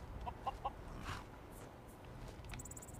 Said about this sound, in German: Seit wann haben wir eigentlich Hühner hier?